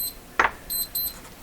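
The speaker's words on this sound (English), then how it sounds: "that beeping will stop in just a moment. It's pretty close to my microphone" Electronic beeping right beside the microphone during work on a Canadian Westinghouse Model 512 tube radio: a few short, bright beeps, loud and close, separated by brief gaps.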